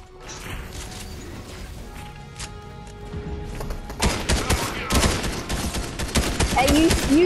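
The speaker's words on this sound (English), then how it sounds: "I'm shooting him." Rapid gunfire from the video game Fortnite, Chapter 3 Season 1, builds from a quieter stretch into dense, loud bursts of shots and impacts over the last few seconds.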